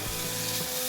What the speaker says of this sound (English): Okay, so I'm gonna add in the beef slices in the middle.